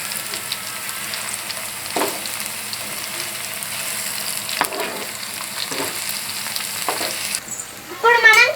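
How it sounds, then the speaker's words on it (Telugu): Ginger garlic paste frying with onions for a gongura chicken curry, a close, steady sizzle with occasional stirring scrapes and a louder clatter of the spoon at the very end. "ఇప్పుడు మనం అల్లం వెల్లుల్లి పేస్ట్ వేసుకుందాం. కలుపుకుందాం ఫ్రెండ్స్."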